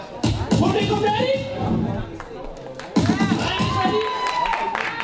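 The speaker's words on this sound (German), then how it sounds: "Leute, wir reißen sich den Arsch heute auf! Applaus! Let's go!" Audience at a breakdance battle semifinal claps and cheers in a loud, dense burst that swells again midway, with shouted voices and chatter mixed through the crowd noise.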